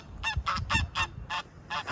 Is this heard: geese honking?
yes